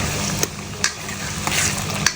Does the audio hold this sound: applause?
no